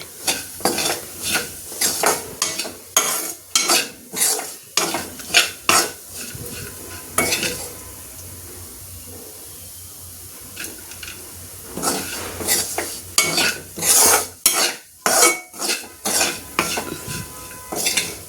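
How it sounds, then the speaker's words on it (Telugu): Carrot fry being stirred in a pan, a spoon scraping and clinking against the metal in repeated bursts over a soft sizzle, with a quieter pause midway before the stirring resumes. "ఇంకా స్టవ్ ఆఫ్ చేసి పౌడర్ చల్లుకుంటే బాగుంటుంది క్యారెట్ ఫ్రై"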